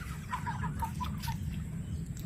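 Backyard chickens kept among turkeys and ducks give a short run of quick, close clucks over a steady low background hum, with no talk.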